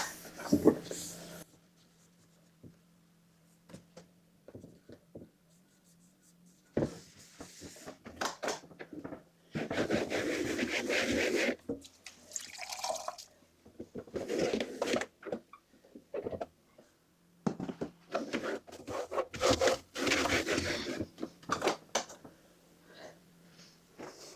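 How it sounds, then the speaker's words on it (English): A wet washcloth wiping down a deep freezer with plain water: soft, close rubbing strokes in intermittent bursts, separated by quieter gaps. "And I'm just going to wipe everything down with just water."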